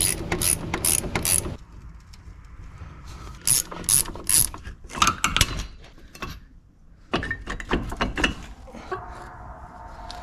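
A ratchet fitted with a 7mm socket clicks in quick bursts while bolts are worked loose on a minivan's brake caliper, the close metallic ratcheting separated by short pauses.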